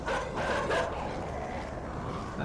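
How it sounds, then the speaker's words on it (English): Several loud dogs barking together in a video game, a dense overlapping burst of yips and bow-wows at the start that settles into a steady noisy backdrop. "a whole bunch of dogs. Loud ass dogs."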